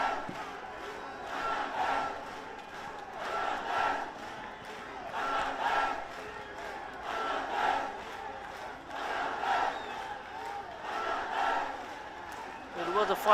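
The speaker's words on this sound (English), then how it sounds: "Now the Bangladesh fans still cheering on." Bangladesh football fans at the SAFF U20 Championship final against India chant in a stadium, their massed voices swelling and falling in regular surges about every two seconds, heard from a distance.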